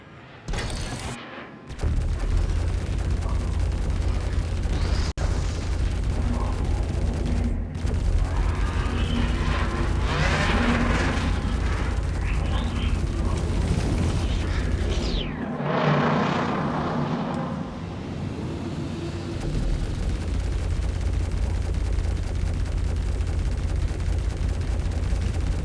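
Missile launches and explosions during a Star Citizen space dogfight, loud booming blasts and whooshes over a constant engine drone, several bursts through the stretch, no voices.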